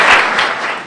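Audience applause at a hospital's 20th-anniversary long-service award ceremony, welcoming a Hatay member of parliament to the stage: a dense, steady wash of many hands clapping at close range, fading slightly toward the end.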